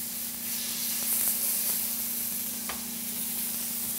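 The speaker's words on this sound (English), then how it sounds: "Give it a sear." Tuna seasoned with salt and pepper searing in a hot pan, a steady soft sizzle with faint hiss running evenly throughout, no voices over it.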